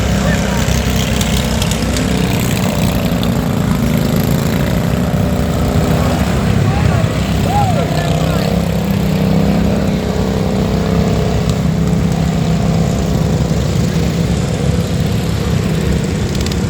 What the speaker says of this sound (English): I believe that was the Tenacious Tata tractor.